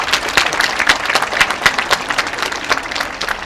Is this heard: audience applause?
yes